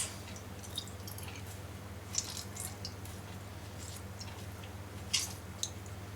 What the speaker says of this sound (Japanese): それでは生姜を絞ります。